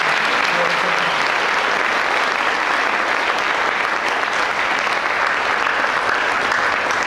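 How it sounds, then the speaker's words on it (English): Sustained, dense applause from a crowd at a sixth-grade graduation ceremony honouring award winners, steady and loud throughout without pause. "if we could have a round of applause for our"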